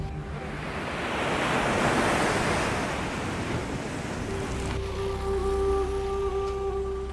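Sea waves surge onto the shore and crash against rocks in a continuous, swelling wash of surf. The roar is loud at first, and a soft tonal hum comes in partway through.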